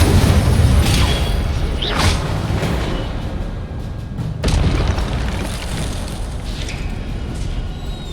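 The Incendio fire spell goes off in the video game Hogwarts Legacy, making deep, rumbling fiery booms with sharp whooshing bursts at a couple of points, loud and continuous with a faint mechanical background.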